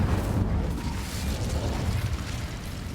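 In the video game Hogwarts Legacy, the Incendio fire spell gives a dense, rumbling roar of flame that stays loud and unbroken for about three seconds, with no speech.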